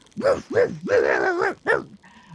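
Several dogs in a video game bark close and loud, about five sharp barks in quick succession ending in a short whimpering yip.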